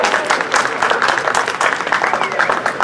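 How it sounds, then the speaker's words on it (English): Audience at a Manassas High School jazz festival kickoff applauding the high school band, dense, steady clapping from a crowd filling the room, loud and close throughout, with faint voices mixed in. "Give them a round of applause for y'all band."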